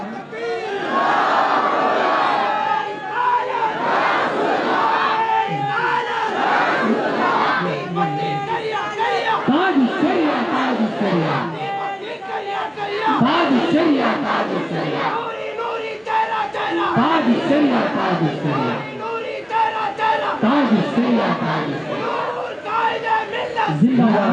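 Crowd at a religious gathering chanting slogans in loud, rhythmic call-and-response bursts, many voices shouting together in a continuous stream throughout.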